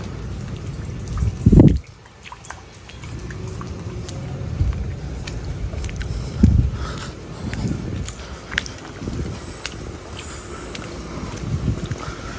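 Steady rain falls during a typhoon at a resort in Tanza, Cavite, a constant close hiss of drops on surfaces. Occasional heavier thumps and splashes punctuate the downpour, and no one speaks.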